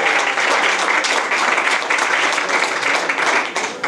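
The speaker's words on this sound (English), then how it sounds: "Let's give him a round of applause for a great facility" Loud, steady applause from a bar crowd at McKenna's on the Bay during a 500th-show celebration event, dense clapping that runs the full length and eases slightly near the end.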